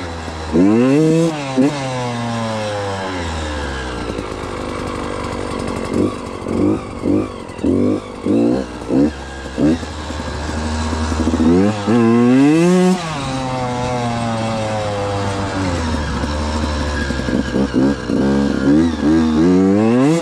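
A Beta dirt bike rides through muddy woods, its engine revving hard and dropping in repeated surges, with a run of quick throttle blips in the middle, loud and close throughout.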